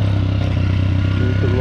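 Honda CG 125 Titan motorcycle exhaust, a steady low drone during the ride with no pause, while a voice talks over it.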